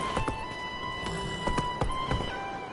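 Hooves of the horse Roach galloping in a video game, a steady run of soft, rhythmic thuds and clops at moderate loudness over a faint continuous background.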